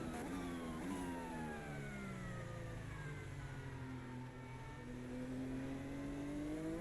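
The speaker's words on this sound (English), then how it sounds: "There's a lot of shifting. It's no use. Up a gear, down a gear, up a gear again." Race car engine in a Formula racing video game, revving steadily with rising and falling pitch through gear shifts, a continuous whine under faint background noise.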